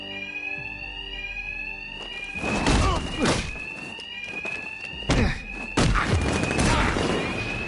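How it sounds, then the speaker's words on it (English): An alarm rings continuously in the video game Batman Arkham Knight, a steady high electronic tone sweeping slightly in pitch, punctuated by several loud crashes and thuds from combat, with brief shouting voices. "My attacks will be covered by the noise of the alarm."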